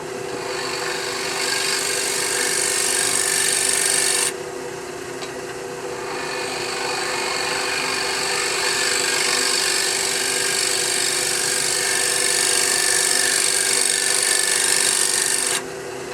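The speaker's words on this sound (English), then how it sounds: "I'm going to take it and do a little negative rake scraping." A closed cutter scrapes wood in a negative rake position while turning a small jewelry box, giving a steady, close, hissing rasp that runs continuously, with brief shifts in tone around four and fifteen seconds, and no talk.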